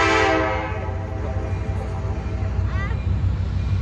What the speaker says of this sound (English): Railroad still has about a dozen trains that pass through here, and I think I see one now.